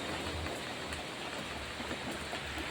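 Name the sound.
rain falling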